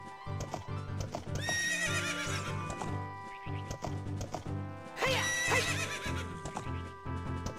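Horse neighing and whinnying over rhythmic galloping hoofbeats in the Ocarina of Time video game, with two loud whinnies standing out above continuous game music and clip-clop.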